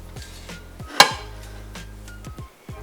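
Utensil stirring ingredients in a metal pot, a sharp clink near one second, then soft scraping and light taps continue alone at close range.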